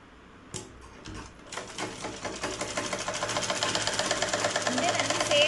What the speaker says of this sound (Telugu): అప్పుడు ఈ పట్టీ కుట్టడం అయిపోతుంది.